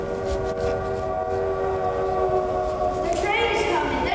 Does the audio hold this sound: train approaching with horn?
yes